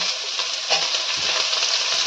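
Chopped onion goes into hot oil with curry leaves, frying with a loud, steady, bright sizzle throughout, with a faint stir or clink partway through.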